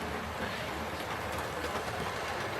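A Hornby model goods train on a home layout rolls steadily over the track, a continuous close rumbling clatter of small wheels throughout with no voices.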